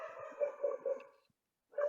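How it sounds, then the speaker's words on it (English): A dog barks several times in quick succession, a few sharp repeated yaps at moderate distance, then a brief pause and one more bark. "I hear a dog in the background too"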